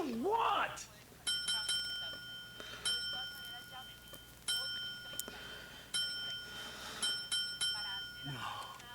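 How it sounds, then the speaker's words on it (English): A small hand bell from Breaking Bad dings in repeated short bursts of bright, sharp rings, with clusters spaced irregularly over several seconds, while a voice speaks at the start and end. "That bell is driving me nuts."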